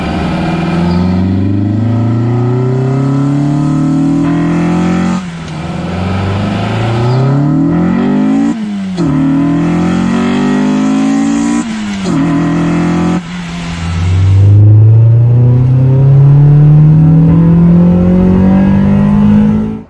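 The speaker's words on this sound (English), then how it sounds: "as you just heard, Vtec's engaging fine, it's pulling nice and hard" A Honda Integra with an LS-VTEC engine revs hard through repeated rising pulls, each climb ending in a sharp shift. The loud, close engine note hardens as VTEC engages, and a final long sweep builds near the end.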